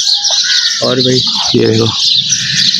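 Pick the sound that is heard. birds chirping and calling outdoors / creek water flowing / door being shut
birds chirping and calling outdoors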